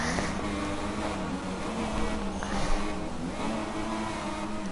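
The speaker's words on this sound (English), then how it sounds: "you can hear the nice engine sounds there" A steady, droning Formula 1 car engine in the F1 2016 video game, Bahrain Grand Prix, hums continuously at a constant level, its tone wavering slightly as it revs, with no voices present.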